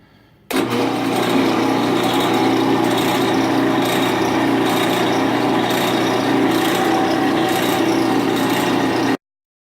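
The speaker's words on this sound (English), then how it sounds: "I'm just going to have to step up to a bigger drill bit" A power drill with a larger bit starts abruptly and runs for several seconds with a loud, steady grinding whine as it bores into wood, then stops sharply.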